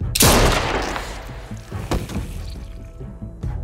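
A loud gunshot rings out in The Walking Dead: A New Frontier video game, a sharp close blast followed by a decaying rumble, with a second fainter shot-like thump about 1.7 seconds later.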